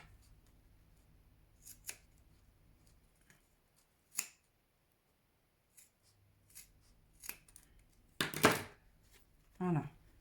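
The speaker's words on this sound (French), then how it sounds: "Peut-être même couper un peu de ma couture là parce qu'elle me gêne" Scissors trim away excess seam fabric on a handmade sewn coin purse and card holder, giving a handful of sparse, crisp snips up close in a quiet room, with a slightly longer double cut near the end.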